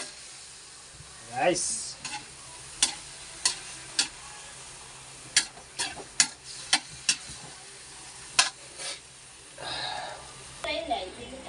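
Bicol Express sautéing in a pan with green chilies, a soft sizzle under repeated sharp clicks and scrapes of stirring, with a person talking intermittently nearby.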